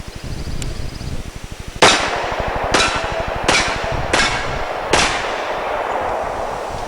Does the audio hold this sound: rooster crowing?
no